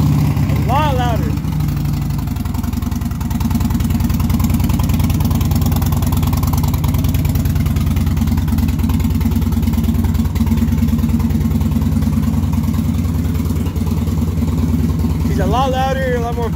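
A Harley motorcycle fitted with a Vance and Hines exhaust, baffles removed, idles loud and close with a steady, heavy rumble, and sharp throttle blips rise and fall near the start and end.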